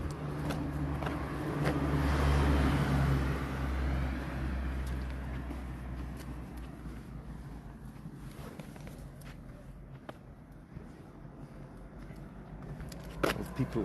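Cars pass on a road in winter Switzerland, a swelling whoosh that peaks and fades as a vehicle overtakes, followed by quieter road noise and a few faint knocks near the end.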